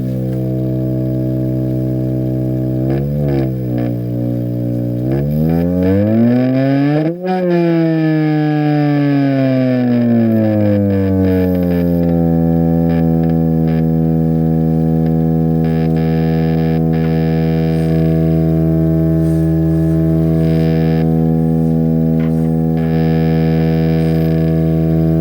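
A Marconi TF2002B AM/FM signal generator's carrier output produces a loud, continuous harmonic drone tone. Its pitch sweeps and glides early on, then settles into a steady sustained hum with no voices.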